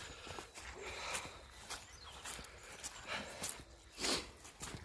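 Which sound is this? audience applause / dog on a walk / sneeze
dog on a walk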